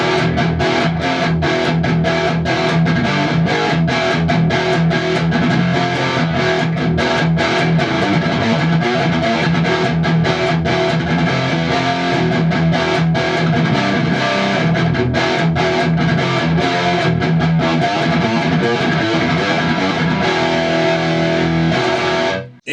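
Electric guitar driven through an amp's distortion channel, a fat, round saturated tone in a steady loud run of riffs and chords that continues unbroken for over twenty seconds, with no voices.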